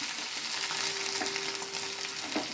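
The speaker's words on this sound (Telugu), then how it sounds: "తర్వాత వెల్లుల్లిపాయలు వేద్దాం" Steady, loud sizzling of garlic frying in hot oil, a continuous crackling hiss with a faint hum running through it.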